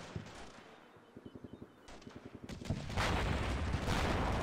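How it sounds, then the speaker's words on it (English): Bradley fighting vehicle cannon fire in Combat Mission Shock Force 2 comes as rapid, evenly spaced bursts of shots, moderately distant, before heavier rumbling impacts build toward the end. "there's some Bradley fire, it looks like"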